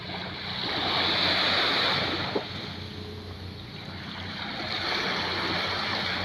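Surf at Angol Beach on Boracay Island rolls in as a broad continuous wash that swells and ebbs, with wind rushing across the microphone and one brief knock partway through.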